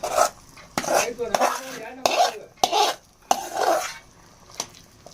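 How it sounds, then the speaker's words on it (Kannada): A utensil stirs mashed vegetables in a pan for pav bhaji, making loud, close, rhythmic scraping and squelching strokes in about seven bursts with short pauses between them. "ಇದನ್ನ ಹಾಕೊಂಡು ಚೆಂದಾಗಿ ಮಿಕ್ಸ್ ಮಾಡ್ಕೊಳ್ಳೋ"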